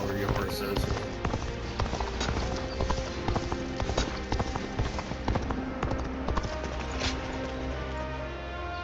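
Rapid hoofbeats of a horse galloping in the Dynasty Warriors Origins video game, a steady clip-clop running throughout alongside game music and effects.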